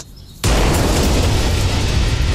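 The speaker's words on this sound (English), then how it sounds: "Or a fist bump that ends in an actual explosion?" A sudden loud explosion bursts in after a quiet moment, a sustained roaring blast that fills the rest of the clip with dense rumbling noise.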